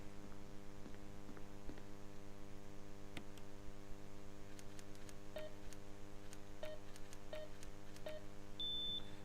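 A keypad in the GameCube Resident Evil game gives a few short electronic beeps and soft ticks, faint over a low, constant background hum.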